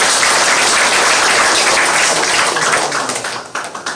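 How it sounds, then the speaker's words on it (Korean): A church congregation at a 20th-anniversary thanksgiving service claps together, a loud, dense wash of applause that holds steady and then thins out and tapers toward the end. "감사합니다 하는 의미로서 박수 한번 하십니다"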